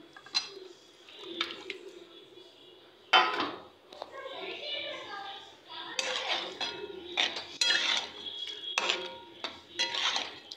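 Chicken and bottle gourd curry is stirred in a pot with a spoon, giving intermittent clinks and scraping knocks against the metal, close and fairly quiet, with a few faint voices in between.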